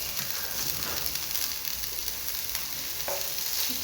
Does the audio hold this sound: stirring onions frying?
yes